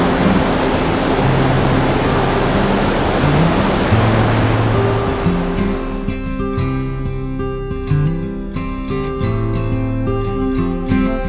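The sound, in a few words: waterfall in a Wisconsin canyon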